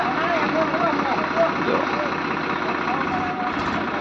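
A tractor engine stuck in mud runs with a steady low rumbling idle, close and continuous, with a faint voice over it.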